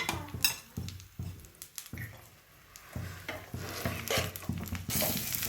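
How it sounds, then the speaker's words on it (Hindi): Raw dates fry in a pan for sweet laddoos, with soft oil sizzle beneath repeated scraping and stirring, light metallic clinks of a utensil against the pan, and brief pauses between strokes. "इस तरह से खजूर को भी इस तरह से तल लेंगे"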